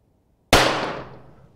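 A single sharp pistol shot rings out at a target range from a Kadet pistol during bullseye shooting. It starts with a loud close crack after silence, then rings out and decays over about a second.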